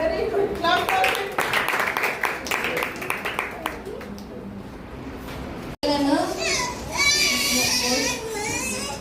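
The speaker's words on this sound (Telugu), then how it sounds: "very good clap for him" Children at a church vacation Bible school break into clapping for a boy, a dense burst of many small hands ringing out early on, with kids' chatter and shouting mixing in and continuing after the applause fades.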